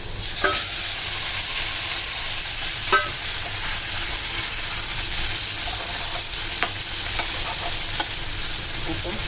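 Masala paste for paya soup sautés in oil in a pan, a loud steady sizzle broken by a few sharp clinks and scrapes of a stirring spoon.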